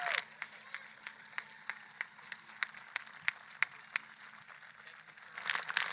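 Sparse, evenly spaced handclaps ring out at a FreedomStand 2020 gathering for speaker Charlie, a slow regular pulse of single claps that swells into fuller, louder applause near the end.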